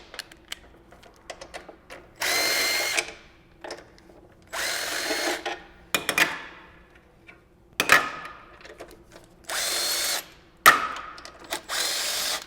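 A socket tool works the 12 mm fasteners on a Tenere 700 motorcycle brake pedal, with bursts of fast ratcheting or whirring alternating with clicks and short pauses, close and fairly loud.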